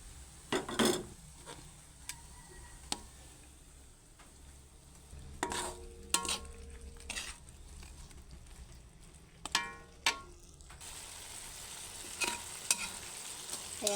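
Chicken and string beans cook in coconut milk, a low steady sizzle broken by sharp clinks and scrapes of a utensil stirring against the pan.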